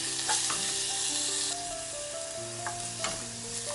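Shallots sizzle steadily in hot oil while sautéing for a Kerala sambar made without coconut, with a continuous close frying hiss and a few stirring scrapes and no talking.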